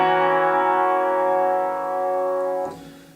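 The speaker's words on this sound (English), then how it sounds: "So if I have a dominant 7th chord, that sounds like this" A dominant seventh chord held as one sustained, bright tone for about two and a half seconds, then cut off abruptly, leaving a short fading tail.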